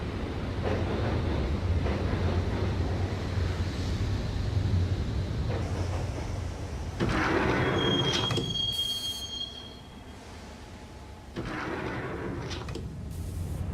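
Subway train from the video game Max Payne riding along with steady low rumble and rattling wheels, a sharp high squeal of wheels on rails near the middle, loud and close throughout without speech.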